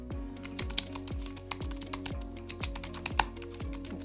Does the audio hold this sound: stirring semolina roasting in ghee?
no